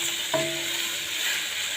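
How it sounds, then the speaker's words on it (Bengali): Food seasoned with salt and turmeric sizzles in a pan while being stirred, a steady close frying hiss with one soft knock early on, no voices. "এখন আবার এটাকে নাড়াচাড়া করে নেব"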